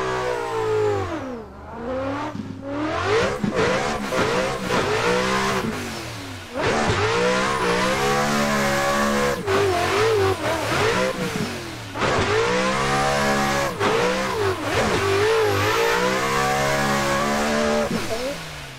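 Nissan S15 drift car on a track with a fresh tune, its engine revving hard and loud in repeated bursts, rising and falling with brief lifts between pulls.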